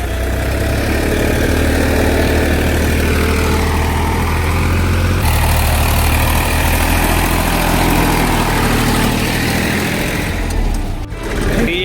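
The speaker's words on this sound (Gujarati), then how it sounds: "આજે કે કે મારે જ આજે ટ્રેક્ટર હાંકવું છે" A tractor engine runs steadily and close by on a farm in Gujarat, a loud continuous low rumble that holds unbroken for the whole stretch, with only a brief dip near the end.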